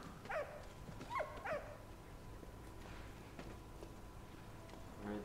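A dog in the video game Valiant Hearts gives a few short barks and yips early on, followed by quieter game ambience and a soft bark near the end.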